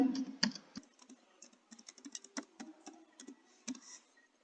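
Someone types a username on a computer keyboard, producing quiet, irregular clusters of close key clicks with a few louder taps.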